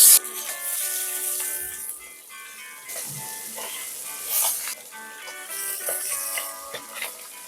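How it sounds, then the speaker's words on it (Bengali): Small tangra fish fry in hot oil with a faint, steady sizzling hiss, mostly covered by background music throughout. "একইভাবে দ্বিতীয়বারের মাছগুলো আমি ভেজে নিচ্ছি।"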